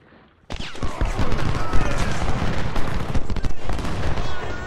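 Dense rolling cannon and musket fire in the Civil War strategy game Ultimate General, a continuous crackling barrage of overlapping booms after a brief quiet start, loud and sustained.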